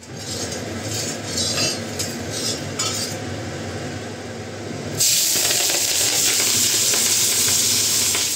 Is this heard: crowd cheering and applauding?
no